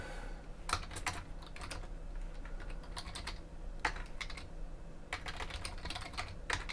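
Keys clatter on a computer keyboard while a command is entered in an Ubuntu terminal, several short bursts of close, crisp taps separated by pauses over a low steady hum.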